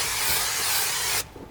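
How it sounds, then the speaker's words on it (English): Aerosol brake cleaner sprayed onto a vehicle panel during VW Amarok sound system work: a steady, close, loud hiss lasting just over a second, then cutting off sharply. "we use a standard brake cleaner, we spray it onto the panel"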